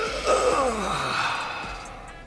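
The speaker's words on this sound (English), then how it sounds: "When the character stretches after seeing the time, I added a stretching sound effect to make the action feel more realistic." A stretching sound effect for an animated character: a drawn-out, breathy vocal groan that slides downward in pitch over about two seconds, sounding close and fairly loud.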